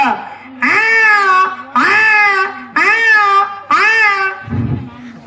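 A schoolchild imitates an older kitten meowing: four loud, drawn-out, rising-falling meows in steady succession close up, followed by a brief low grunt.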